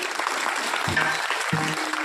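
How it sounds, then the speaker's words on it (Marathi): Steady crowd clapping fills a Hanuman Chalisa recitation gathering at Jalke Bu, a dense, even patter of many hands with a couple of brief low voice-like tones underneath. "त्यांच्यासाठी एकदा टाळ्या वाजवा बरं सगळं"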